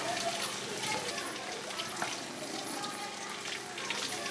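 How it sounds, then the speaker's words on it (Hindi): Running water pours steadily, as from a tap while hands are washed, a continuous broadband wash with faint splashes, and a voice speaks over it. "आगे कुछ भी करने से पहले अपने हाथों को अच्छी तरह से धोकर साफ करें।"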